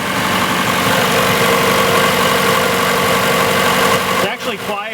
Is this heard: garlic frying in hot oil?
no